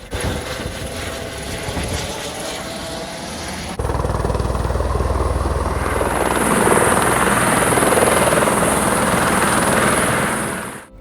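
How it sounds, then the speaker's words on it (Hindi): A helicopter's rotor chop and turbine whine grow louder and closer as it lands near Palm Jumeirah, Dubai, settling into a loud, steady roar with a high whine before cutting off abruptly. "ये देखिए एक दूसरा वाला हेलीकॉप्टर अभी यहाँ पे लैंड कर रहा है।"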